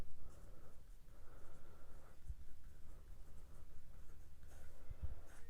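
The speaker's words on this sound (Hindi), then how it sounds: "तो पहले ये पूरा लिख दो" Pen scratching steadily across paper while a maths problem is worked out, a quiet continuous writing sound with small strokes and pauses, close to the microphone and heard alone.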